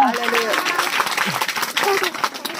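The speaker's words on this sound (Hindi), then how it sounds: "ताली बजा के उसको धन्यवाद करें।" Congregation clapping hands together in thanks during a church sermon, a busy patter of many hands with voices talking through it.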